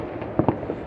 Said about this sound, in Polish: Najpierw petarda